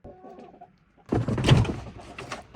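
Chickens at an off-grid Appalachian homestead during a winter snowstorm make a burst of close, loud clucking and squawking after a quieter moment, several birds calling over one another.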